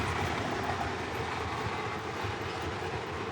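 A post-war cab forward model train locomotive runs steadily with a continuous, dense mechanical rumble and whir, much like a coffee grinder, loud and close without pause.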